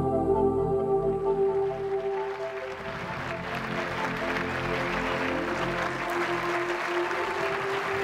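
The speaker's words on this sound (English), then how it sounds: "the audience started with an applause" Audience applauding as credits roll at a film premiere, a steady broad clatter of many hands filling the room throughout, with low sustained music or hum underneath.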